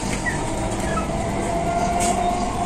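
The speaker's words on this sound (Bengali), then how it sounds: "মেট্রোর মাধ্যমে এখন শিয়ালদায় সবাই পৌঁছে যাবে মাত্র 20 মিনিটে" A metro train runs between Salt Lake Sector V and Sealdah, heard from inside a BEML-built coach as a loud, continuous rumble with faint rail hiss and a thin wheel squeal.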